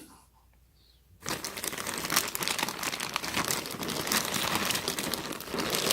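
Dense, continuous crinkling and tearing of plastic packaging as the strap on a Palace Tri-Ferg triangle hooded sweatshirt bag is pulled open, close and loud after a second of near silence, with no talking.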